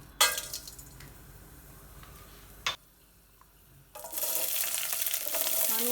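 Whole cloves, cinnamon and cardamom dropped into hot coconut oil for a Kerala vegetable stew, a quiet sizzle broken by a couple of clatters before the frying swells louder.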